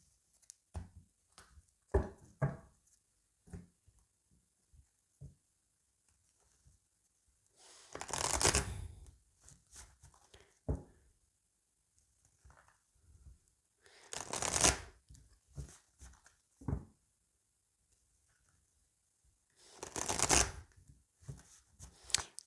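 A deck of oracle cards is shuffled by hand, with three long riffling bursts and many short soft taps and slides between them, close and quiet.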